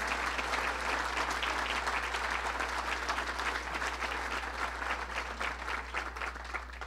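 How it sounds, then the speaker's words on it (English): Sustained applause from a large crowd at a speech, steady and loud throughout with no break. "Let's give him a round of applause."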